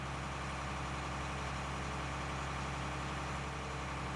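A big tractor engine idles in Farming Simulator 19 on the Ravenport map, a steady low rumbling drone that stays constant and close with no other sounds.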